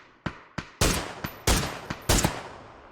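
Rapid gunfire in a PUBG esports match: about nine sharp, loud rifle shots in an uneven rhythm, each with a short ringing decay, with no talk over them.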